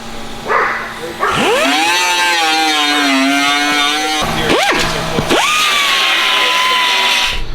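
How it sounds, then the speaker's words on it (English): A grinder fitted with a flap disc (hamburger wheel) works metal on a Nissan R34 Skyline restoration, a loud close-up whine that rises sharply and holds, dips briefly, then spins back up and sustains. "The hamburger wheel, best thing ever invented"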